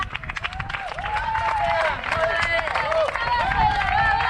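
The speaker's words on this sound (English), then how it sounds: "some Kiwi supporters out there cheering on Crofty" Kiwi supporters cheer and clap for runners at the Ultra-Trail du Mont-Blanc, a steady crowd noise of applause and shouts with a commentator talking over it throughout.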